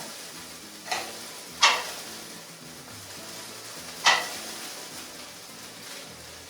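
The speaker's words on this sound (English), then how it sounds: "So this is going to cook up for a few minutes until it gets nice and crispy." Greek home fries potatoes frying in a pan, a soft, quiet sizzle under three sharp utensil clicks against the pan, spaced apart, with no talk.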